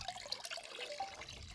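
Water dripping and trickling off an Anker Soundcore Flare 2 Bluetooth speaker just lifted out of water, a faint, close patter of scattered drips with no talking.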